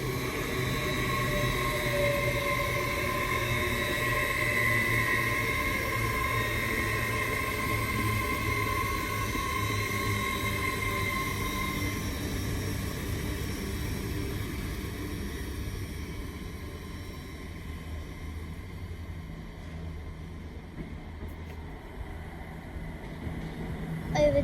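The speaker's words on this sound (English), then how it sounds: "LNER service from Lincoln to King's Cross" An LNER Class 800 unit on a Lincoln to King's Cross service runs past at Peterborough, a loud sustained electric whine and rumble that slowly fades away over about twenty seconds.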